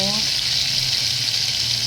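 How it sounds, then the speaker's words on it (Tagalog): Boneless bangus (milkfish) belly frying in hot oil, giving a loud, steady close-up sizzle that runs unbroken through the whole moment. "Prito po tayo ng boneless bangus belly. Pa-golden brown po natin"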